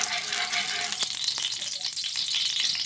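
Garlic dropped into hot cooking oil in a pan, a loud, close, continuous sizzle with a few faint clicks and stirring sounds, and no talking.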